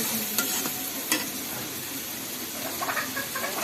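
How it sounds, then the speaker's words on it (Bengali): A salted hilsa fish curry fries and sizzles steadily in a pan, with occasional stirring scrapes and clinks heard up close over a constant hiss; no voices. "এই দেখুন রান্না হচ্ছে সোনালিশ মাছ রান্না"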